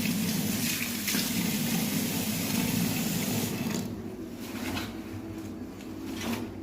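A silk blouse being washed by hand in shampoo water, with continuous close sloshing and swishing of water that eases slightly near the end.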